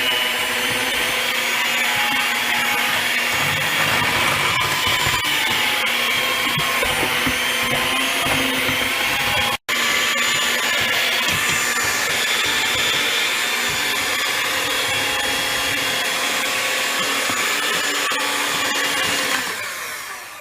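An electric mixer beating butter and sugar for a cream cheese pound cake, a steady loud whirring drone with scraping texture that runs unbroken apart from one instant dropout, then fades at the end.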